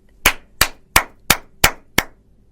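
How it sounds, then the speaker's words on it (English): Six sharp, evenly spaced claps ring out alone in a clear, steady rhythm about a third of a second apart. "Nana's mother began clapping."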